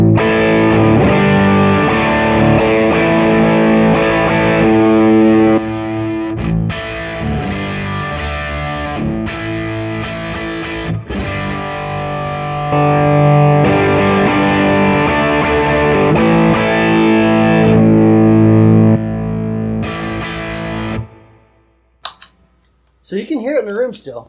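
Electric guitar through a drive pedal into two amps in stereo, strumming sustained distorted chords and riffs for about twenty seconds before cutting off, followed by brief clicks and a short bit of talking.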